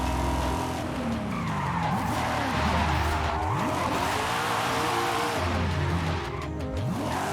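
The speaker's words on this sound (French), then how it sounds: "Ouais, le petit drift, c'était magnifique" A car drifting in Forza Horizon 5, with a loud, sustained tire squeal and skid over an engine revving up and down in repeated swooping sweeps.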